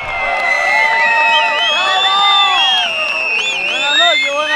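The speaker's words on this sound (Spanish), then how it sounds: "se escucha la ovación de las personas" A crowd at the Burial of the Sardine festival night in San Andrés y Sauces cheers and whoops continuously, many voices layered in a loud, sustained ovation with high shouts rising above the throng.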